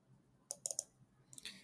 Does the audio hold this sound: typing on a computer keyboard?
yes